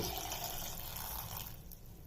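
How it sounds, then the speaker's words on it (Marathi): Two glasses of water pour steadily into a pot of tomatoes for tomato rasam, a continuous rushing, splashing wash that holds even throughout, close by, with no voices. "आता यात टाकते दोन ग्लास पाणी"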